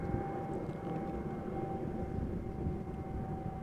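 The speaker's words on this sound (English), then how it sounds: "This is KLM Flight 767, but it is an Airbus A330-300 arriving from Bonaire" KLM Airbus A330-300 airliner arriving at Amsterdam Schiphol from Bonaire, a low, broad jet rumble with a faint steady whistle that stays distant and even throughout.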